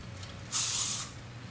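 A single burst of hairspray hisses onto a ponytail, a close, loud spray lasting about half a second against a quiet room.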